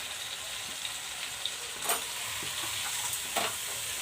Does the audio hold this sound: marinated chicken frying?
yes